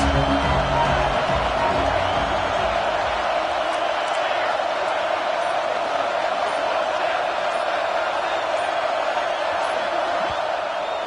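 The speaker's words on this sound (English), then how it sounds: "This crowd bringing an ear-splitting welcome to their visitors." Stadium crowd in the NCAA 26 college football video game roars in a dense, unbroken wall of noise that stays loud and steady throughout, with no break or swell.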